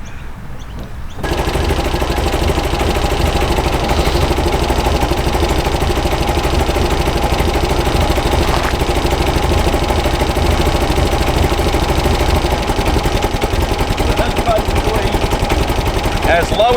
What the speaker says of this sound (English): I'll start it up because it pretty much has to run